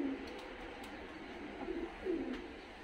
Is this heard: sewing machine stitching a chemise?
no